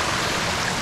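Stream water rushes steadily over rocks and logs along the Blue Ridge Parkway, a dense, close hiss of flowing water without pause.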